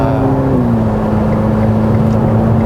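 A Ferrari F8 Tributo turbo engine drones loud and close at steady revs around 4,000 rpm on the Fiorano circuit in Italy, a deep harmonic hum that dips slightly in pitch early on.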